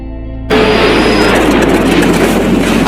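A damaged airplane engine fails as the plane goes down into a lake, with a loud continuous roar that bursts in abruptly and stays harsh and unbroken.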